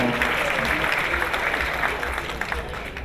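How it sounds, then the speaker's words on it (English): Sustained applause from a gala audience honoring event sponsors and supporters, a dense even wash of many hands clapping for about three seconds. "How about a round of applause for all of the sponsors and supporters?"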